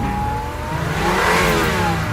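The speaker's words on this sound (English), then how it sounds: "She started the car and gunned the gas." An old car, decades past its prime, is started and its engine gunned, a loud, steady mid-pitched rev that climbs and swells, close by and alone.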